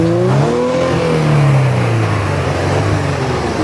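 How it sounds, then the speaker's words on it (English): A 2018 Kia Stinger GT with 100,000 miles and a turbocharged engine revs up and settles, a loud, close, muffled engine note rising and then falling away into a sustained drone. "Go ahead and rev it, April."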